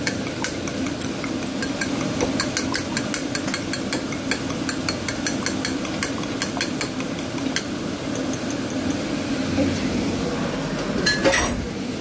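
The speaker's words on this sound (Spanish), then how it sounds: "Y batimos los huevos," Two eggs beaten in a bowl for a salt cod omelette, a steady run of quick light clinks and scraping against the bowl that keeps on continuously, moderately loud and close, with no talking.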